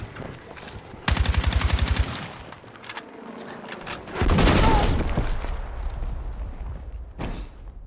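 Sniper and rifle fire in a first-person shooter: a loud rapid burst of shots, then a heavy crack with a booming tail and scattered fainter shots trailing off, with no talk.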